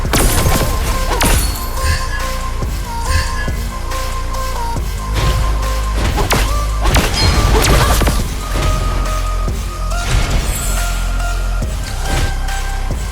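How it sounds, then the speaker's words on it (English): Turret destruction in Mobile Legends: Bang Bang gameplay, with loud repeated crashing impacts and whooshes layered over continuous game music and effects, dense and busy throughout. "Your team destroyed a turret."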